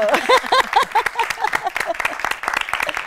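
Audience applause rings out as rapid, crisp claps under a loud, expressive voice that dominates the first half, then thins into scattered claps toward the end.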